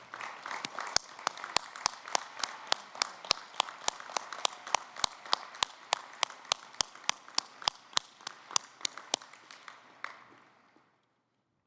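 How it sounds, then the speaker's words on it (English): A university commencement audience applauds steadily, with sharp distinct claps standing out above the crowd, before it fades to silence near the end. "Let's give him another big round of applause."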